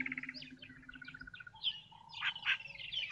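A bird near water gives a quick run of high chirps and warbling trills, fairly faint and heard alone against a quiet background.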